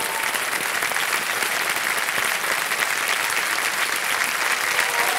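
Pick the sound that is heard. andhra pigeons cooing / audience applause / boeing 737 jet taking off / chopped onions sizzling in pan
audience applause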